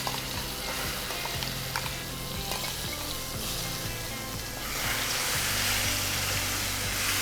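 Masala sizzles steadily in hot oil as a tempering for amtekai gojju, a dense continuous frying hiss that grows louder and brighter midway, with faint stirring scrapes and no talk.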